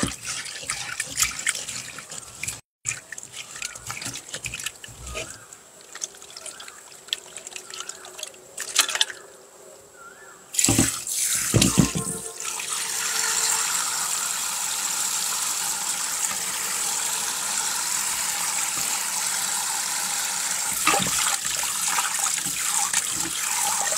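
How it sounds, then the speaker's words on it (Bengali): Tap water runs steadily into a sink as cut fish is rinsed with salt, a continuous splashing trickle that starts broken and rough, then settles into an even, close flow with no talk. "আমি মাছটা কেটে ধুয়ে নিচ্ছি। একটু লবণ দিয়ে ধুয়ে নেই।"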